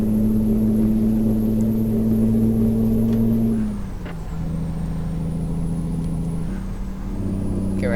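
A truck engine in American Truck Simulator drones at steady revs, then drops as the driver shifts gear and settles into a lower hum before climbing again, loud and close with no talking.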